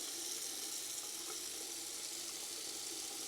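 Water runs steadily from a tap down a freshly unclogged bathroom sink drain, a constant soft hiss and splash with no pauses and no voices.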